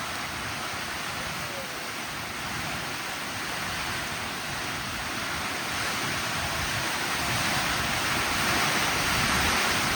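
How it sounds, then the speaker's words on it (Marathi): Heavy cloudburst rain in Lotewadi village roars steadily with gusting wind, a thick, unbroken wash of noise that builds a little louder over the span. "आमच्याकडं आज ह्या वर्षातला पहिला सगळ्यात मोठा पाऊस चालू आहे."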